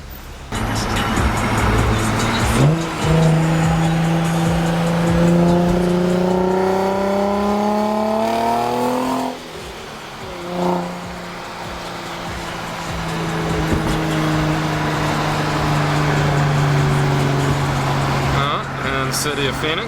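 A 1000-horsepower Nissan 300ZX engine revs hard through rising gears, dips off throttle, then pulls again in a loud, close, steady drone.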